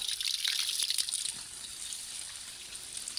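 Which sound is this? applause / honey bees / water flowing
water flowing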